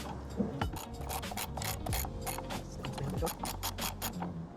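A big hand ratchet clicks in a steady run of sharp, evenly spaced ticks while a 17mm upper suspension arm bolt is turned on an old EJ2 Honda Civic, with faint low workshop hum beneath and no talk.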